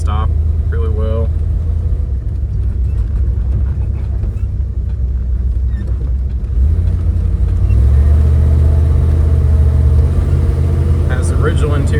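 A 1980 Jeep Cherokee with a 360 V8, rebuilt carburetor and automatic transmission runs with a steady, loud low rumble that swells slightly toward the end, while a person talks over it.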